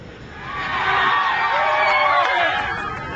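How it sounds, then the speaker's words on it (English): Hundreds of fans mob a band at Perth Airport, with an excited crowd of high-pitched shrieks and cheering swelling loudly and then holding steady. "Last night, hundreds of fans mobbed the group at Perth Airport."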